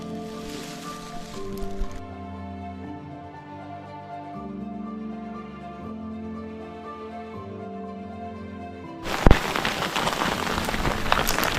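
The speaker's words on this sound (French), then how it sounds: "Je sais pas si vous voyez tomber sur nous, mais c'est de la grêle." Hail patters densely on hikers standing on a cliff in Norway, heard as a loud, hissing wash of impacts at the start and returning strongly near the end, with a steady tonal hum between.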